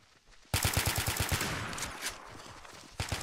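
Rapid automatic gunfire erupts suddenly after a quiet start, a steady rhythmic string of sharp loud shots that fades into echoing noise, then a fresh burst starts again at the end.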